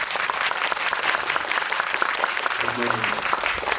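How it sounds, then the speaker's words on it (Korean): A large audience applauds at a screening of the film Ballerina, with dense sustained clapping and a voice briefly speaking over it. "박수 한번 부탁드립니다"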